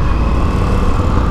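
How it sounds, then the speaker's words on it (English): An Indian FTR 1200 motorcycle decelerates on engine braking, its engine giving a steady, loud, close rumbling drone mixed with wind rush and no talk. "Engine braking on this bike is great."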